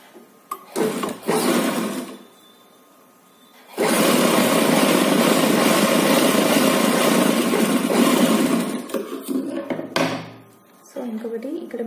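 A sewing machine stitches an umbrella baby frock in short whirring runs, one brief burst early and then a long steady run of several seconds, close and loud, with someone talking in the pauses.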